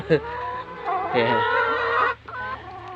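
A chicken clucks close by in short, uneven bursts, with a few sharper squawks between the calls.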